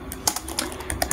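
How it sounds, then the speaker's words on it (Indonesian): Keys tap on a computer keyboard in a quick, uneven run of close, crisp clicks lasting about a second, with no voices. "asal ketik saja"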